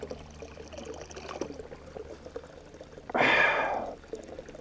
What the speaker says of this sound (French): Source d'eau.